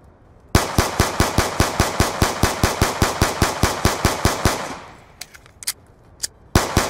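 Rapid, evenly spaced Five-seven pistol shots from the video game Black Ops 2 ring out loud and close, about twenty in a quick string, followed by scattered clicks and a final shot after a pause.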